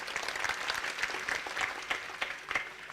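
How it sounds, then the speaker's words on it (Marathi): An audience at a Hindu religious discourse on the Shiva Mahapurana and Ramayana applauds the Maharaj, a steady patter of many hands that sounds fairly soft and somewhat distant. "एकदा महाराजांसाठी टाळ्या वाजवाव्या"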